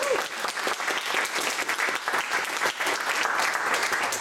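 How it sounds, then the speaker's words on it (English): Audience at a spoken-word poetry event gives a sustained round of applause, dense, even clapping from a small crowd lasting several seconds with no talking over it. "let's give her another round of applause"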